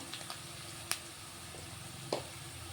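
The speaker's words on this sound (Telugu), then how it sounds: "ఇప్పుడు ఇందులో కొంచెం అల్లం వెల్లుల్లి పేస్ట్ వేసుకుంటాను" Ginger garlic paste sizzles softly in a tempering pan with curry leaves while lemon rice is being made, a steady low hiss broken by two brief clinks.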